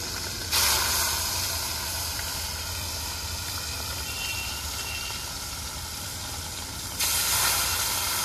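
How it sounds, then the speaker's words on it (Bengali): Shol fish sizzles in hot oil, a loud, steady hiss that surges sharply at the start and again near the end as pieces hit the oil, heard up close with no talk. "তো মাছটা ফ্রাই করি আগে।"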